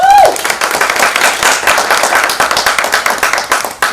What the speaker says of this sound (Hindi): एक बार तो तालियां बनती है।